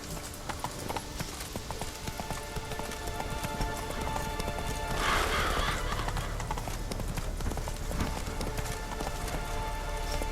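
Roach, the horse in The Witcher 3, gallops with rapid, steady hoofbeats throughout, loud and close, with a brief swell of noise midway and no talking.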